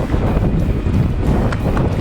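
Steady wind buffets the microphone with a constant low rumble and roar throughout, outdoors while bike touring in Belgium.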